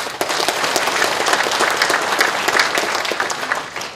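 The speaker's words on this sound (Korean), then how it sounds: "두 후보에게도 아낌없는 박수를 부탁드립니다." Applause at a Democratic Party political speech for provincial party chair candidates in Chungbuk, Korea: brisk, continuous clapping from a sizeable hall audience, fairly close and steady for the whole stretch.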